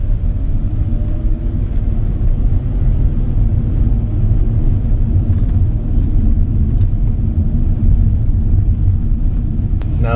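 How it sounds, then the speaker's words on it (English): Steady low rumble of road and tyre noise inside the cabin of a 2025 Hyundai Stargazer X at speed, a continuous broadband drone with no talk over it. "there's a bit of road noise going inside the cabin now."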